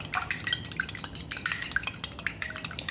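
Quick, light clinking and tapping of a whisk beating an egg in a bowl, a rapid irregular patter close by with no voices.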